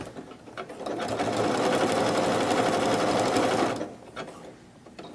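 A sewing machine stitching fabric runs steadily for about two and a half seconds, loud and close, then stops, with quiet handling sounds before and after and no talk.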